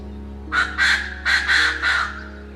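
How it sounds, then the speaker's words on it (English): A loud, hoarse bird call repeats five times in quick succession, harsh horn-like notes close by over a steady low hum. "This loud, horn-like call is typically delivered at dawn"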